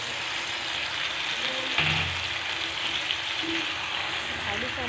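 Potatoes going into hot masala in a pan, giving a steady, soft sizzle and hiss with a few light clinks; a voice talks over it.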